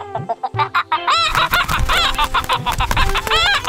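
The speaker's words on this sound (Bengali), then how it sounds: "এ কেমন মুরগি? এ তো উট পাখির মতো বড়।" A cartoon chicken loudly clucks and crows, with a long run of sharp repeated calls that rise into crowing and fill the whole stretch without pause.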